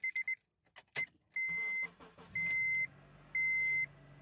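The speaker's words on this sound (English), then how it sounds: "Vehicle starts up good." A car is started with the key: quiet key jingles and a few electronic chime beeps come first, then a brief crank gives way to a low, steady idle hum under repeated longer warning tones.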